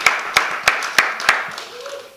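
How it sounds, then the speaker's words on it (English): Hands clap in a slow, even rhythm at a mayors' forum in Culver City, about five distinct claps spaced evenly before trailing off, set against a faint murmur of voices. "give a round of applause for these amazing folks who are doing great, life-saving work"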